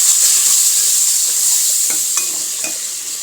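Tomatoes and ginger sizzle in a pan for sambhar, a bright, steady frying hiss with a few soft spoon scrapes and clicks as they are stirred, close and loud with no talking.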